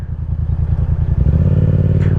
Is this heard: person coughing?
no